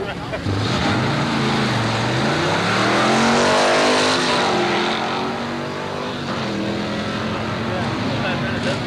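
A pickup truck drag racing at Carlsbad Raceway in 1990, its engine droning loud and steady as the pitch rises and falls through the run, with talk over it.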